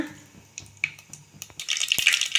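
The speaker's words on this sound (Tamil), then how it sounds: "கடுகு பொறிஞ்சிடுச்சு" Mustard seeds crackle and spit in hot oil in a clay pot, short pops building into a dense, bright sizzle near the end, close and fairly loud, with no talking.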